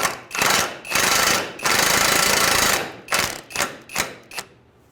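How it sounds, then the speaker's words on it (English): The lower control arm bolts on a 2003-2011 Honda Element are tightened with a power tool. Several loud rattling bursts of varying length give way to shorter, fading pulses. "So right here, we're just going to get these bolts snugged up."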